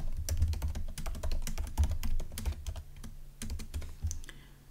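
Rapid, uneven clatter of keys as code for a Karel programming exercise is typed on a computer keyboard, close and continuous, with no talking.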